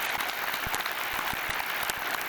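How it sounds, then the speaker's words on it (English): A small audience breaks into brief, sparse clapping, individual hand claps scattered and fairly distant, lasting only a couple of seconds. "there's a clap."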